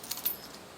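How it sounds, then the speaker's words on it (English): Keys for a 2024 ERide Pro SS 2.0 72V electric dirt bike jangle briefly as they are added to a key chain, giving a few light, close metallic clinks that are fairly quiet and heard alone. "Got our keys right there."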